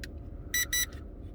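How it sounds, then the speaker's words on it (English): A SIMREX 300C drone sounds two short, bright electronic beeps in quick succession as it connects, close and clear over a low background hum, with a faint click just before. "It beeped. It means it's connected."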